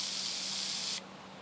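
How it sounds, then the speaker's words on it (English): A spray paint can held upside down gives one steady, loud hiss of about a second while the nozzle clears, then cuts off sharply to quiet. "Continue holding the can upside down and push down on the spray nozzle for 1 second to do a final clearing."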